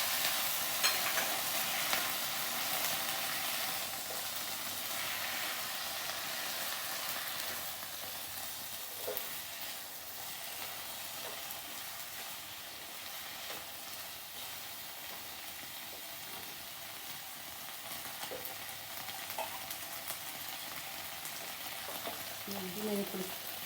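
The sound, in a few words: soy sauce added to paneer frying in a pan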